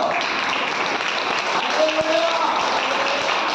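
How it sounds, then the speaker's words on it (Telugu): Applause fills a church fasting-prayer gathering, the congregation clapping as a dense steady roar throughout, with a brief tonal voice-like note partway through. "చప్పట్లు"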